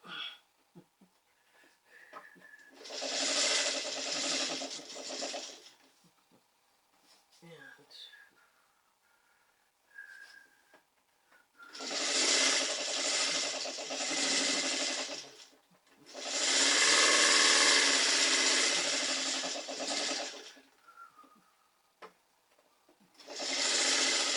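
A sewing machine stitching a quilt block runs in four loud, sustained whirring bursts of several seconds each, separated by quiet gaps with soft handling noises and brief talk.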